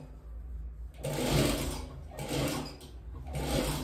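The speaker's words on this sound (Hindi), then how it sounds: "तो इसको हम सिलाई कर लेंगे" A sewing machine stitching an overcoat sleeve, three close bursts of rapid whirring motor stitching separated by short pauses, no talk.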